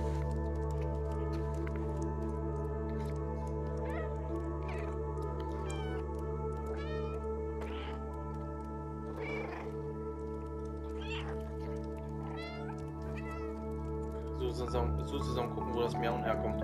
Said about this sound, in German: Zusammen gucken, wo das Miauen herkommt.